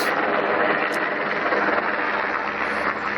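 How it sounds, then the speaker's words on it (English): A steady, loud rotor roar and engine drone from a helicopter hovering directly over a house, continuous and dense with a low throbbing underneath. "helicopter, right on top."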